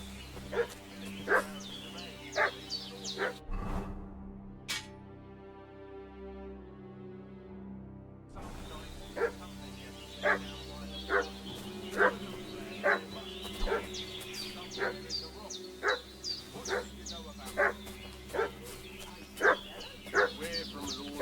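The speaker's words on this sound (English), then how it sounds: "What's that dog making such a fuss about?" A dog in the medieval game Kingdom Come: Deliverance 2 barks repeatedly in a steady, evenly spaced run of sharp yips, fairly close, with a brief break partway through and low background ambience.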